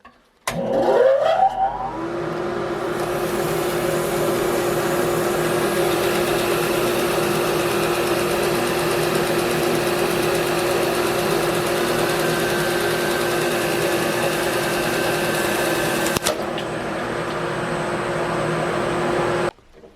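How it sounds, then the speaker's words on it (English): A grinder and a dust blower run steadily in a knife restoration workshop, a constant loud whirring hum with a high whine, starting abruptly at the beginning and cutting off near the end. "I'm going to turn on the blower, turn on the grinder"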